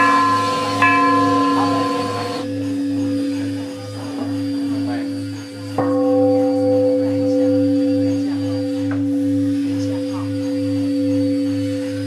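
Bells ring inside a bell workshop, several struck tones blooming and humming with long sustained decay, one deep bell throbbing steadily beneath, with strikes recurring every few seconds.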